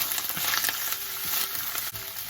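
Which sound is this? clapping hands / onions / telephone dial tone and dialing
onions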